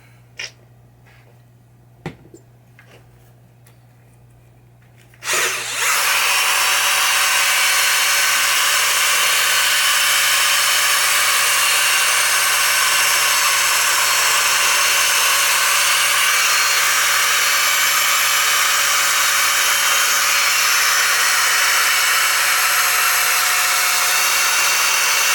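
A power drill with a polishing pad runs on a 1973 Williams pinball machine, starting after a few quiet seconds with faint knocks, then whirring loudly and steadily at close range for about twenty seconds.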